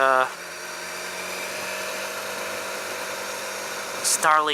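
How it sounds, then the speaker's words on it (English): BMW S1000XR motorcycle exhaust while riding in traffic: a steady, droning engine note at moderate level, with a voice speaking briefly at the start and again at the end. "It's got a nice exhaust sound too."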